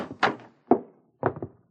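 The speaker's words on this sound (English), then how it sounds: "Right through this door." A door opens in a radio drama with a series of close wooden thunks and knocks in three clusters, heard alone with no voices.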